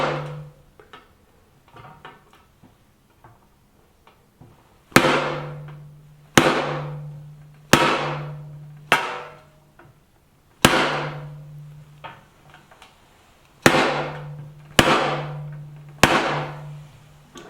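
A metal hammer strikes chasing tools into solid copper sheet for repoussé folk-art work, about nine sharp ringing blows at irregular intervals with decaying resonance, lighter taps and a steady low hum in between.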